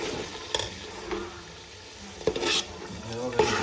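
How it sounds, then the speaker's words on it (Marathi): Marinated chicken for biryani sizzles in a pan of whole-spice tempering with bay leaf and cloves, while a spoon stirs it in a few brief scraping bursts against the pan, close, with no talk. "मॅरिनेट केलेलं चिकन आपण त्याच्यात फोडणी टाकून दिले"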